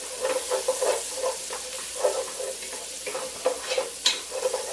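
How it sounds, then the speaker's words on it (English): Bacon and onions frying together in a pot while being stirred, a steady close sizzle broken by repeated scraping and stirring clatters, with no voices. "Bacon's cooking. Onions are starting to get nice and soft."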